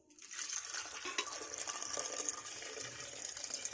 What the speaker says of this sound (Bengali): এবার এর মধ্যে দেব কিছুটা জল,